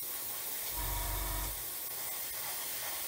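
Spray paint hisses in one short close burst of under a second onto the nose cone parts of a Roden 1/144 C-141B Starlifter model in a spray booth, followed by a low steady background hum.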